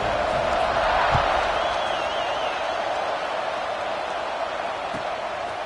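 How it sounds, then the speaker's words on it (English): Steady, dense roar of a college football stadium crowd at a Tennessee vs. Florida NCAA game as the teams line up for a kickoff, filling the air continuously without distinct peaks. "this crowd now ready to get behind them"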